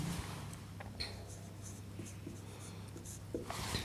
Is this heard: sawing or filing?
no